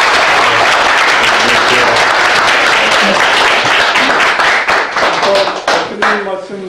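Warm, loud audience applause welcoming a lecturer at an invited talk event, close and dense clapping that thins out near the end as a voice starts speaking.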